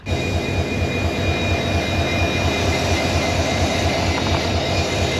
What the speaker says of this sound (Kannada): ನಮ್ಮ ಟ್ರೈನ್ನ ಎಳಿತಾ ಇರೋ engine WDP 4D, one of the powerful diesel ಲೊಕೊಮೋಟಿವು.